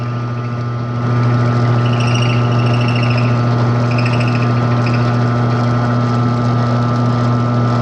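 A drill press quill is fed down through a wooden dowel, and the motor gives a steady, even mechanical hum with a constant drone that holds unchanged throughout, with no voices.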